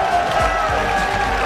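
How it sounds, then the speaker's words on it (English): A crowd cheers at a 2014 NA LCS Spring Split esports match between Dignitas and Curse, a steady, roomy roar of voices and applause that holds at even loudness throughout. "Boy getting a good cheer from the crowd"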